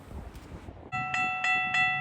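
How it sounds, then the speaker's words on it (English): A rumbling passenger train pushed by an MP40 diesel locomotive passes nearby, then a loud horn sounds in three short bursts over the rolling noise. "pushing the 6-car train was MP40 locomotive 635"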